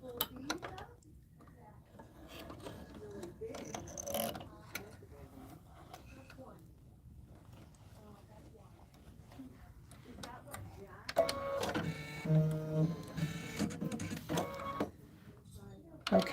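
An embroidery machine stitches the outline of a flower on a beehive quilt block, a rhythmic mechanical whirring that grows louder and busier toward the end, while a person talks over it.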